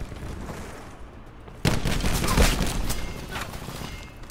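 Call of Duty: Black Ops 4 gunfight against militia: after a quieter stretch, a sudden loud volley of rapid shots breaks out and continues as sustained close gunfire with sharp bursts.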